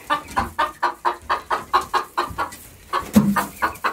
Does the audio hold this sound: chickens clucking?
yes